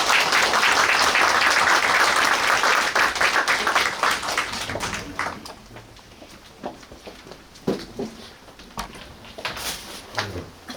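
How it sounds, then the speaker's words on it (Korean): A crowd at a Basic Income Party lawmaker's constituency report meeting in Suncheon bursts into loud, dense applause that thins after a few seconds into scattered, fading claps. "우리 용혜인 의원에게도 다시 한번 큰 박수"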